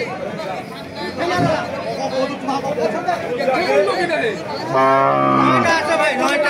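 Cattle low loudly amid a busy crowd of chattering voices at a weekly cattle market in Thakurgaon, with one long, close moo near the end.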